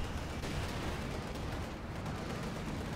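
Dense, continuous battle noise from Company of Heroes 2, with Wehrmacht Grenadiers firing alongside a field gun and Panther tank, a steady wash of rifle and machine-gun fire and rumbling blasts filling the whole stretch with no pauses.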